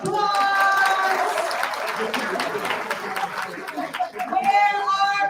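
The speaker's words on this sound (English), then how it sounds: "Give them a round of applause" Children cheer and applaud as a group, a dense wash of clapping mixed with excited young voices and squeals, steady for several seconds and then briefly swelling again near the end.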